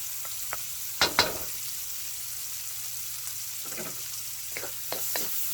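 Minced garlic frying in a pan for bacon fried rice gives a steady, faint sizzle with a few sharper clinks of stirring near the start and end, no voices.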